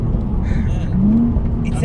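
A Holden Commodore VF SV6 engine gives a deep, steady low rumble from inside the car, while a person talks over it throughout.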